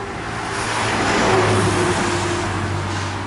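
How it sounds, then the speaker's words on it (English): A car passes outside, its engine noise swelling to a broad steady rush and easing off again over a few seconds, with no talk. "And we got another car coming by."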